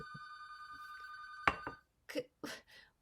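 A mobile phone rings indoors with a steady electronic tone for about a second and a half, then cuts off and is followed by a few brief faint knocks and rustles.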